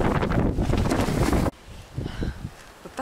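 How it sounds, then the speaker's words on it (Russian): Gusty wind at a wild campsite buffets the microphone with a loud, roaring rush that cuts off abruptly halfway, leaving a quieter, uneven breeze. "Бывает резкий порыв ветра, и все полетело к фигам."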